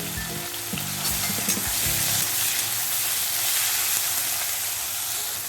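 Onions hit hot oil for a chicken and egg curry with a loud, close, continuous sizzle, briefly stirred amid a low tonal background hum early on, then a steady frying hiss.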